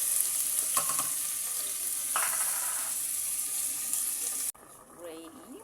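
Onion and tomatoes fry in a pan with a steady, close hissing sizzle, with a few brief clinks partway through. The sizzle cuts off abruptly near the end, leaving quieter kitchen sounds.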